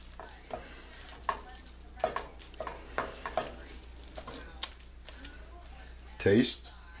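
Chopped scallions stirred into a hot pan of crab cake mixture made with imitation crab, giving a low steady sizzle with scattered scraping stir strokes and a louder clatter near the end.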